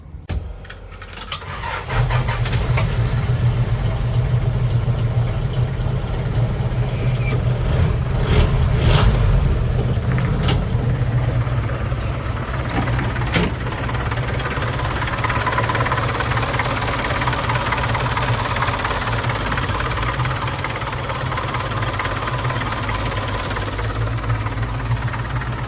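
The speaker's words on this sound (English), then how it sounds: "we'll get the engine started, take a look at the engine bay" A 1976 Toyota Land Cruiser BJ40 engine cranks briefly, catches and settles into a steady, loud idle with a deep, even rumble that holds for the rest of the stretch, with no voices.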